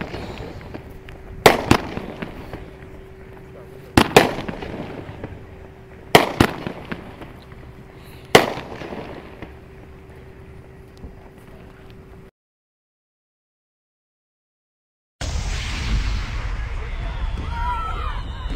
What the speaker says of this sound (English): How about them fireworks? Pretty cool, huh?